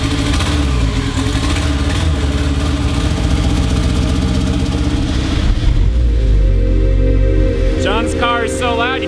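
A built high-compression turbo 1.6L car engine roars steadily on a dyno, loud and sustained for most of the clip, with a second loud car running nearby; the engine note drops near the end as squeals appear.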